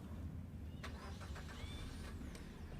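A manual car's engine cranks and starts with a short burst of whirring and brief higher whines over a low idle rumble. The sound is faint and recorded close.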